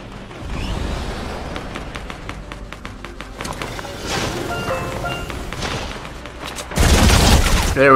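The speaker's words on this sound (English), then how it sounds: "the SMG shots and the pistol shots" Rapid SMG bursts and sharper single pistol shots ring out in a Fortnite battle royale match, dense overlapping gunfire with footsteps and game effects that swell into a loud final barrage.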